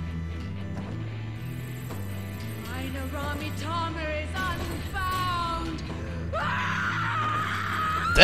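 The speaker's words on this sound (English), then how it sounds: "That scream, always hated it." A woman's scream from the Final Fantasy XIV video game rises and wails over a layered musical score, growing louder and more piercing toward the end.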